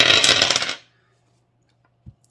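Dice tumbling and rattling across a hard surface in one dense burst lasting under a second, followed by near silence with a faint low hum and a soft knock toward the end.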